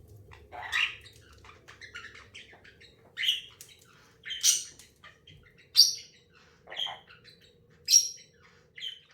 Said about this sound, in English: it's not the GameZone Birdroom without all the birds